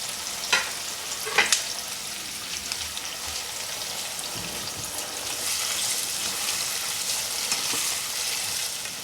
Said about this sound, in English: we're gonna cook the onions for about 5 minutes on high flame till they turn nice golden brown